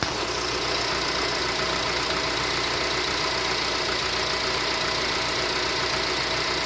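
Idling engine of a 2007 Honda CR-V with a stalling fault, a steady, fairly quiet hum with faint knocking texture, close by and without talk.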